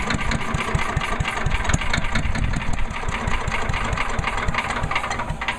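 A Troy-Bilt chipper vac's small gasoline engine sputters and runs roughly with a rapid, uneven chugging pulse, loud and close, sustained without pause.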